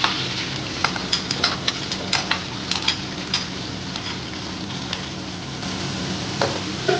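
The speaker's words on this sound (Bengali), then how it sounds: "বড় বড় 4টা পেঁয়াজ কুচি করে রেখেছিলাম, ওটা দিয়ে দিচ্ছি।" Chopped onions with bay leaf, cinnamon and cardamom frying in hot oil for chicken dopiaza, a steady close sizzle with light stirring clicks and taps scattered through it, no talking.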